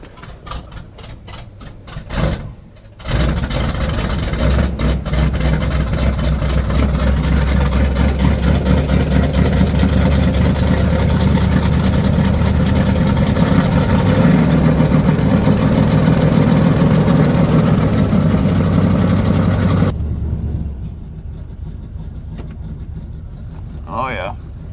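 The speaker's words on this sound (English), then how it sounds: "I'm gonna have to turn up my idle a little bit." A square-body truck engine idles steadily for about seventeen seconds, a loud, continuous low rumble with a rapid ticking texture, then drops away; voices can be heard around it.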